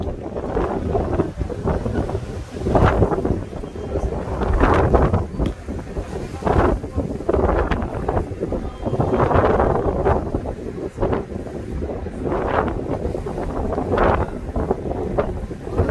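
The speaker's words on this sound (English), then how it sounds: "Oh, it's so windy today." Strong wind roars and buffets the microphone on a trip from Jericho to Bethlehem, loud rumbling gusts that swell and ease repeatedly, voices faintly present beneath.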